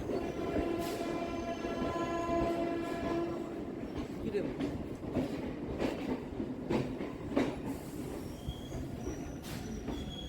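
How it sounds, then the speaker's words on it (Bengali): A Sealdah–Barrackpore galloping local train at Barrackpore station runs loud and steady with rumbling wheels and rail noise, a drawn-out horn blast near the start, and wheel squeal and clatter mixed with platform voices. "শিয়ালদহ ব্যারাকপুর গ্যালোপিং লোকাল এটাই"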